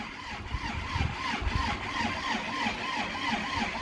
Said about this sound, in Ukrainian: Оце ще наш трактор.